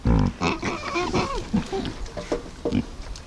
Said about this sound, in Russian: Африканские карликовые свинтусы.